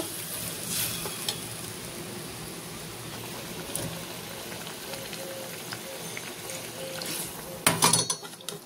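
Water is poured into a soybean and potato curry frying in the pan, giving a continuous bubbling sizzle with scattered crackles and a louder burst of stirring near the end, with no talking.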